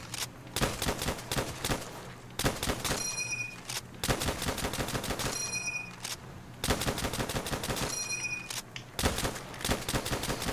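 A semi-automatic gun fires in Black Ops 3 custom zombies, rapid bursts of sharp shots in repeated volleys with brief gaps, loud and up front, with short electronic tones between bursts.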